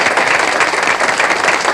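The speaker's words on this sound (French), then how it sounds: "Oui, vous pouvez l'applaudir, votre maire." A dense burst of applause from a crowd at a 1974 town evening show in Dégelis, Quebec, steady and loud throughout, with no pauses.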